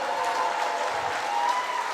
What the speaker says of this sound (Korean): 앵콜 박수 한번 주세요